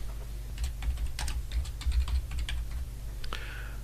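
A computer keyboard is typed on at a steady, light pace, the clicks close and fairly quiet over a constant low electrical hum.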